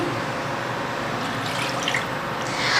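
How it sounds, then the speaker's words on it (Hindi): One cup of water is poured into a pan for kheer, a steady continuous splashing rush that stays close and fairly loud throughout. "देगी खीर बनाने के लिए सबसे पहले एक पैन में मैं 1 कप पानी डालूंगी।"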